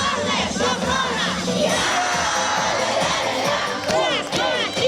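A crowd of children shouts loudly and continuously at a farewell campfire, a dense, sustained roar of many young voices with rising cheers throughout.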